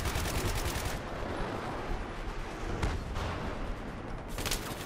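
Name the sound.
tank firing in Battlefield 3 video game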